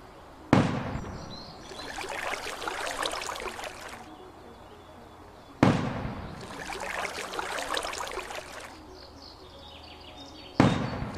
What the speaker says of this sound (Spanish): Esas explosiones no sé por qué es.